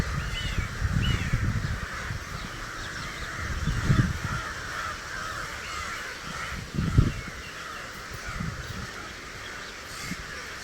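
Crows caw repeatedly around trees outdoors, harsh calls overlapping in an ongoing squabble with a steady outdoor background.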